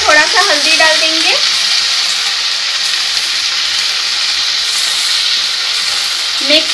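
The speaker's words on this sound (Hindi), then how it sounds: "तो अब हम आलू को भी डाल देते हैं।" Potatoes hit hot oil in a pan while cooking bathua bhujia, setting off a loud, continuous sizzle and hiss that stays steady throughout, with a brief voice at the start and end.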